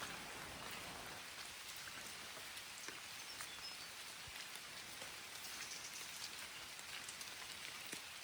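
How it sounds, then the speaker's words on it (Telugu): Rain falls steadily on foliage in the Maredumilli forest, a soft, even patter with scattered individual drops, fairly faint and continuous, with no voices. "వర్షం, ఒక పక్క వర్షం,"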